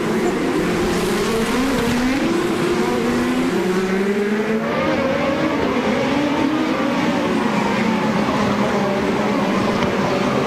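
IndyCar race cars at the 2012 Long Beach street race roar past continuously, a dense, loud engine drone with pitch sweeps as cars pass, steady throughout with no clear voice.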